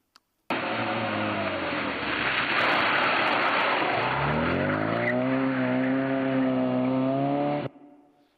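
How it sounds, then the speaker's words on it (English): A small Mini car performs a handbrake turn: a sustained loud tyre screech over roaring engine noise for about seven seconds, the engine note rising and falling as the slide ends, then cutting off. "that's what's known in the trade as a handbrake turn"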